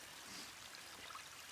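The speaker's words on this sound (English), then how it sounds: "There's the creek." A creek runs through the woods of Olympic National Forest, far below a switchbacking trail, its faint, steady rushing hiss continuing without pause and no voices.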